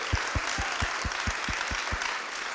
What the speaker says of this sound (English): let's give Larry an enormous round of applause for leading on this issue